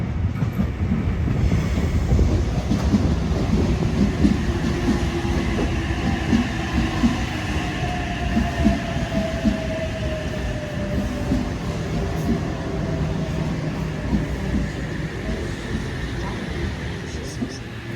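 Passenger train sets H42 and H11 pull out of Gosford station, a steady loud rumble of wheels and rail noise with a long squealing tone rising over it, heard throughout with faint voices in the background.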